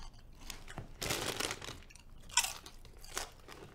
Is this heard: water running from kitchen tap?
no